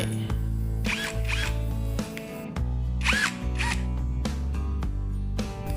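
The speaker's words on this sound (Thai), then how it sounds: "สำหรับตัวสว่านก็สามารถปรับระดับเร็วช้าได้ 2 ระดับนะครับ" A brushless DURABIL cordless drill with two speed settings whirs in several short bursts, its motor pitch rising and falling as the trigger is squeezed and released.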